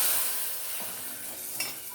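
A tempering is poured into boiling Malabar spinach sambar, producing a bright, hissing sizzle that starts loud and slowly settles, with a small splash near the end and no voices.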